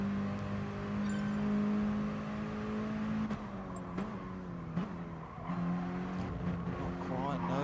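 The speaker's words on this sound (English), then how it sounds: "And MBG closing again under braking into turn 1" Race cars circling Laguna Seca in a racing video game, engine whine rising and falling under braking and acceleration, with a commentator talking over it throughout.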